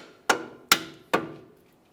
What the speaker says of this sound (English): I'm using a rubber mallet.